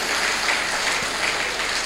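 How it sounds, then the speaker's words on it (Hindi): Clapping from an audience at a spoken religious discourse, a dense steady wash of hand claps lasting a couple of seconds with no voices over it. "हाँ ताली बजा लो, ताली बजा लो"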